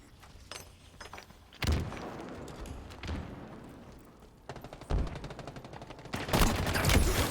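Video game gunfire arrives in several loud bursts of rapid shots separated by quieter stretches, each burst sharp and punchy with heavy low-end thumps, the last one longest and most intense.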